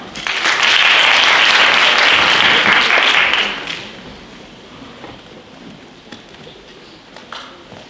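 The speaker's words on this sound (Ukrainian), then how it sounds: "Оплески." Enthusiastic applause from an audience at a children's poetry and song festival gala concert, loud and steady for a few seconds, then fading out to quiet room noise with a few scattered claps.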